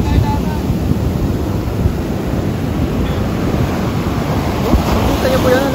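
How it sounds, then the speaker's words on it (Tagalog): Large, strong sea waves crash on a beach at Morong, Bataan, a loud continuous roar of surf mixed with heavy wind buffeting the microphone. "Nakita nyo po yan, ang laki ng alon, no?"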